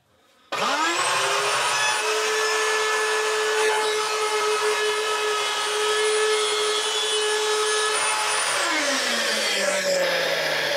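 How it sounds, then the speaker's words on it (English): A wood router rounding over the edges of a workpiece whines up to speed. It runs at a steady high-pitched roar for several seconds, then winds down as it stops. "the router is quite a scary tool for me, probably because it's so loud"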